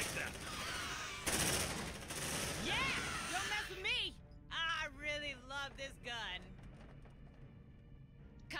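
Gunfire from a gun in the video game Aliens: Dark Descent, dense rapid bursts up front then fading, with shouting voices and alien screeches layered over the later half.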